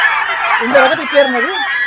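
Chickens on a poultry farm, white and brown breeder birds, cluck and call in short warbling bursts close by, while someone talks over them.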